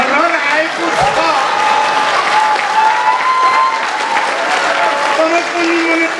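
An audience at a comedy show claps loudly and steadily throughout, while a voice talks over the sustained applause.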